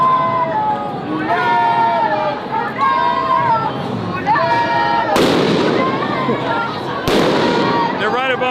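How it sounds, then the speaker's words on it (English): Flashbang grenades go off at a street protest where tear gas is also being fired, two sharp broadband blasts cutting through steady crowd noise, shouting and nearby voices, with whistle-like tones drifting over the din. "They started pushing the line, and they're deploying tear gas and flashbang grenades above our heads."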